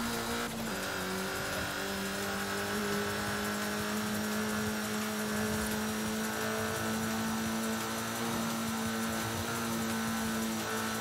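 Mitsubishi Evo 6 driving in the video game Forza Horizon 5: a steady engine drone holds at a constant pitch with faint tire noise, loud and continuous with no talking.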